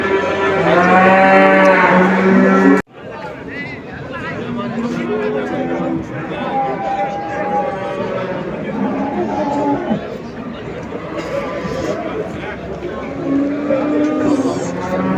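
Loud cattle moos at the start, a long harmonic bellow, followed by a busy livestock market in Çubuk, Turkey, with overlapping voices and more distant lowing.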